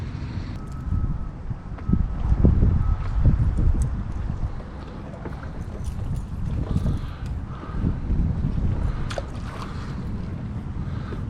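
Wind rushing past on a river while a boat drifts along with the current, loud buffeting gusts with low rumbling across the microphone throughout.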